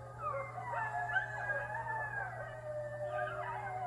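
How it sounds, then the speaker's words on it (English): A pack of wolves howls together, several long wavering voices rising and falling in overlapping chorus, steady and moderately close over a low constant hum. "Instead, they howl to mark out their territory and rev up the pack for the hunt"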